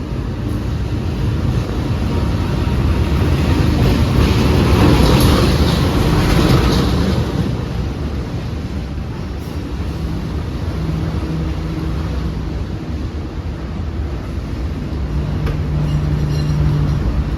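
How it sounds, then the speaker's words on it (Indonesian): The Pasundan passenger train, a New Gen set, rolls into a station with a loud, continuous rumble and low mechanical drone that swells and holds close by, with faint rail clatter and no talk. "rangkaian kereta api Pasundan akan masuk nih"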